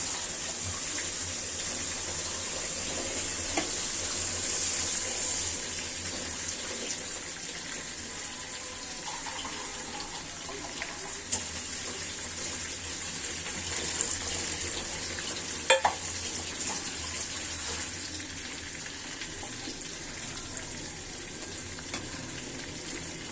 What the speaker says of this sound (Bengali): এখন আমি পানি দিয়ে দিবে এতে